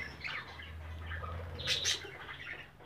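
Pet budgerigars and lovebirds chirp in a colony aviary, a steady busy chatter of small twittering calls with a brief louder burst of sharp chirps midway and a faint low hum beneath.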